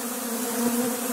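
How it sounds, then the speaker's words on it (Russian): A dense, continuous hum of many honeybees robbing a weak hive in autumn, loud and close, with no voices. "пчелы осенью, когда нет взятка, могут выбрать слабую семью, ну, устроить вот такой напад"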